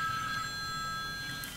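A telephone rings close by with a steady electronic trill of bright, sustained tones over faint low background noise, continuous for the whole moment.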